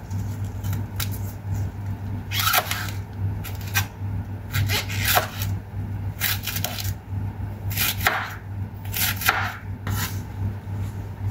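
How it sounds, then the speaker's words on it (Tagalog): A knife slicing vegetables into thin, long strips for an Asian salad, with irregular bursts of crisp cuts against a board, some in quick clusters, close and clear with no speech. "Iwain din natin ng maninipis na pahaba para lahat ay pantay-pantay."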